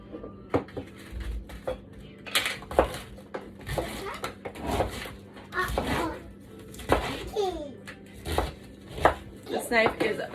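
A sharp knife cuts longer vegetables in half on a board for homemade sauerkraut, giving a string of close, crisp chops at an irregular pace, with faint kitchen clatter and a few brief background voices.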